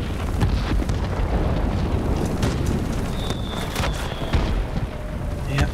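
Anti-aircraft fire in the WarPlanes video game keeps up a dense, loud rumble of overlapping explosions and bursts, with sharper cracks and a brief whistling tone partway through.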